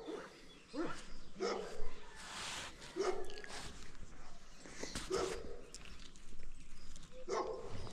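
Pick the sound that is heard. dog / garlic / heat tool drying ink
dog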